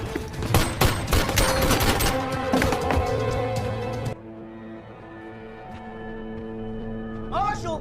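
Gunfire from a film scene in which attackers storm Jim's office: dense bursts of shots and crashing impacts for about four seconds, then a quieter tail with a lingering tone and a final burst.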